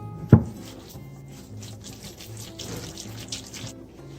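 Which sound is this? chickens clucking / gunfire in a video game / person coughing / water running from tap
water running from tap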